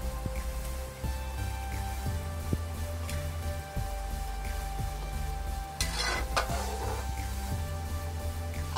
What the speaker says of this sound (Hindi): और ये जो मच्छी फ्राई करके रखा मच्छी डाल देती हूँ सारे।